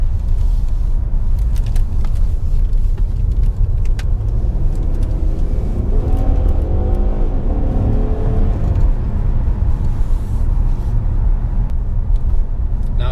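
Steady low engine drone and road rumble from a 2016 Ford Taurus SHO Performance Package with a twin-turbo 3.5L EcoBoost V6 out on the road, a continuous loud hum with a faint rising tone midway and no talking.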